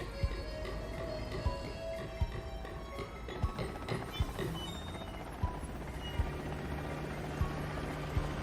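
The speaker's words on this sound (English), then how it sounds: "Avoid those choppers, Sly. If they see you now, we're busted." Helicopters in the Sly Cooper: Thieves in Time video game, a steady mechanical drone with regular thudding beats running the whole time.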